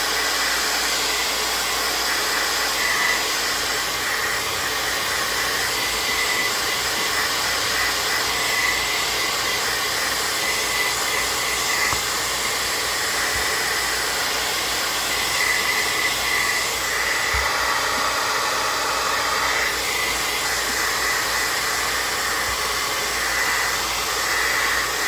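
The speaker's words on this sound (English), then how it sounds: "that's still kind of damp. We'll just blow dry this quickly." Hair dryer blowing on damp paint on a handmade doll, a steady close whooshing roar that runs unbroken for the whole stretch with no talk.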